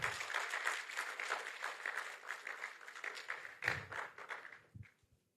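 A crowd applauding steadily with dense, overlapping claps, rising briefly near the end before fading out to quiet.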